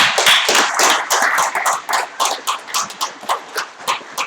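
A room of guests at a Rotary Melbourne festive celebration claps for Bev, the sharp claps settling into a steady rhythmic beat, fairly loud and close, with no voices over it.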